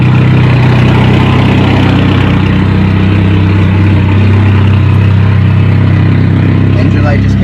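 An abandoned Ford Escape's engine runs rough in a steady, close idle, a constant low droning rumble that holds without pause and stays loud throughout.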